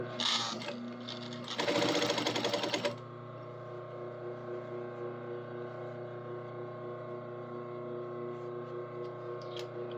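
Sewing machine topstitching a fold in fabric: a brief fast mechanical chatter of stitching at the start, then a steady humming motor drone that continues alone.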